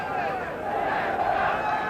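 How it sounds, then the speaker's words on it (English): A French crowd chants at a 1990 rugby league match between France and the Kangaroos, a steady roar of massed voices filling the stadium. "And the chant goes up from the French crowd."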